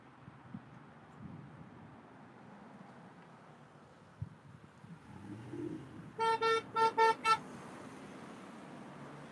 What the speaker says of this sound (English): Just got some honks right there.